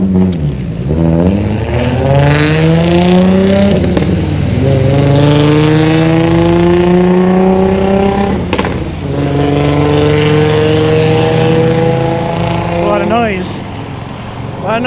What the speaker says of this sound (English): A lot of noise for a car.